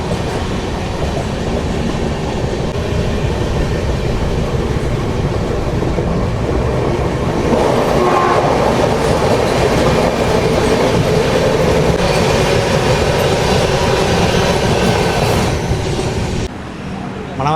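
The SMVT Bengaluru–Danapur express train pulls out of Gora Dongri station, a loud continuous rumble of wheels on rails with rhythmic clatter from the carriages, heard up close while people talk over it.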